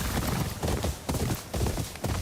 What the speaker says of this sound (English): so I probably shouldn't be on top of this loud horse.